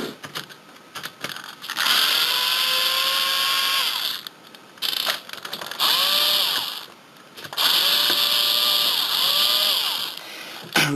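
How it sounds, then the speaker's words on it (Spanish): An electric screwdriver spins out screws from a PS3 Super Slim console in three loud, close bursts of high whine lasting a couple of seconds each, separated by brief clicks and handling noise. "Lo voy a hacer con un destornillador eléctrico."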